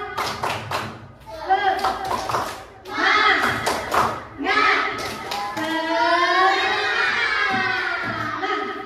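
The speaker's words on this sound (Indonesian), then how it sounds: "Tepuk semangat." A classroom of children doing a rhythmic 'tepuk semangat' spirit clap, bursts of patterned hand clapping mixed with chanting and shouting voices, close and lively.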